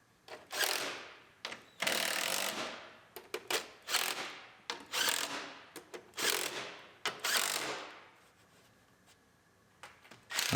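Screws are tightened on a closeout panel of a 2018 Ford Explorer Limited AWD during a collision rebuild, with repeated close ratcheting bursts of whirring and clicking separated by short pauses.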